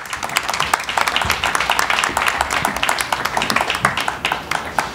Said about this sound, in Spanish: un gran aplauso para los tres, por favor